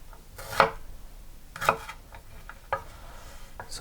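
A knife cuts through bell peppers on a board in a few distinct, well-spaced chops, each a sharp close crunch, with softer scraping and handling sounds between.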